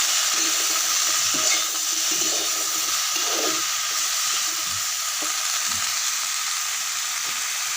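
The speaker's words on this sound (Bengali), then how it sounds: "সামান্য লঙ্কা গুঁড়ো ধনে গুঁড়ো আর জিরে গুঁড়ো দিয়ে একটু কষিয়ে নেবো" Chilli, coriander and cumin powders fry in a pan for a fish and raw banana curry, giving a loud, steady hiss with faint irregular scraping stirs underneath.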